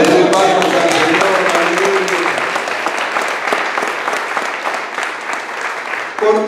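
A church congregation claps loudly and steadily throughout, a dense wash of applause with some voices mixed in that eases slightly toward the end.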